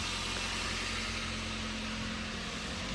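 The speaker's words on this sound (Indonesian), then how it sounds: "Kalau mesinnya halus teman-teman, terdengar mesinnya halus." A 2007 Toyota Avanza G VVTi engine idling, a steady, even hum with a constant low drone and a broad hiss and no voices.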